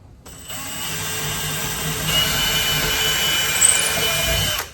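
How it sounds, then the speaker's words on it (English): A power drill whirs continuously for several seconds, a close, steady high-pitched whine that strains slightly as it bites into the wall, then stops. "So we're going to go ahead and get our holes drilled here."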